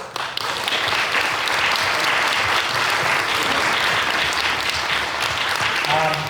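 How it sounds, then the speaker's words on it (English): Loud, steady applause from a workshop audience at a regional music session in Bellingen, greeting a panel of mentors; many hands clap densely and evenly, with a voice briefly audible near the end. "So please, a round of applause."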